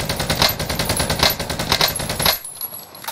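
Automatic gunfire rattles in Call of Duty: Warzone on Rebirth Island, loud, close rapid bursts with sharp repeated cracks that stop abruptly near the end, leaving a quieter tail.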